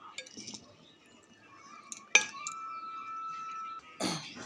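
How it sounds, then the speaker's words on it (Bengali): Rice being served onto a plate at home, with a few sharp clinks of dishes and cutlery, one loud clink midway, close by. "এখন ভাত দিয়ে দেবো ভাত বেড়ে নিই"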